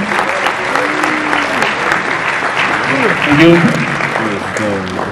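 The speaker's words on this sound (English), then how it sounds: "An applause for Roy." Audience at an FX Summit forex trading event applauding for Roy, a dense, steady wash of clapping filling the room, with someone briefly speaking over it.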